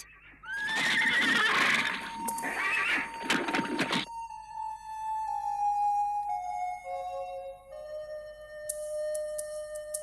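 A white horse gives a loud, close whinny lasting several seconds, rising and quavering, which then gives way to a sustained musical score with no speech.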